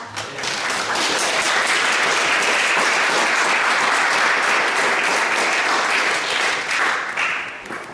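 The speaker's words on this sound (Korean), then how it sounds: "목사님 나오실 때 뜨거운 박수로 환영하시기 바랍니다" A church congregation gives warm, loud applause to welcome the pastor to the pulpit, dense, continuous clapping building quickly and holding for several seconds before fading.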